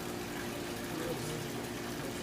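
Water rushes steadily through the pipes of a fluid friction apparatus in a lab, a dense continuous gush with no breaks, loud and close.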